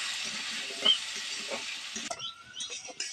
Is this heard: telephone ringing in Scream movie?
no